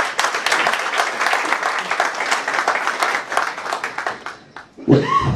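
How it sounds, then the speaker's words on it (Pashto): Audience applause for the poet Ihsan at a Pashto poetry gathering in Cologne, Germany: dense, steady clapping from a crowd for about four and a half seconds, then fading out as a voice begins to sing. "د احسان جان په ویاړ چکچک"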